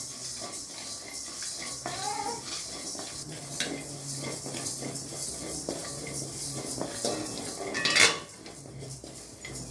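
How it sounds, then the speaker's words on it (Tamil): Urad dal dry-roasting in a pan, with a steady scratch of metal stirring and the clink of a utensil against the pan, plus one sharper clatter near the end; no talking. "உளுத்தம்பருப்பு வறுத்தலாம்."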